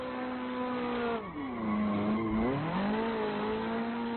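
Car tires squeal in a long skid as a car drifts on the handbrake in the Assetto Corsa racing game, the engine note dipping and rising again under the continuous screech.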